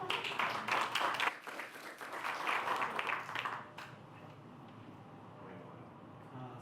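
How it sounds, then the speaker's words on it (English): A small group claps for about four seconds, moderately loud and close, at a bill signing ceremony, then the applause stops and a quiet room murmur remains. "Clap for that."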